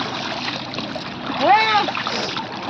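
People dip and splash in the Ganges river, with water sloshing steadily around them and a swell of splashing midway, under voices in the background.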